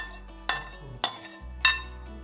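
A spoon stirs homemade strawberry jam in a metal pan over a low flame, striking the pan in three crisp, ringing clinks spaced about half a second apart against a quiet background, with no talking.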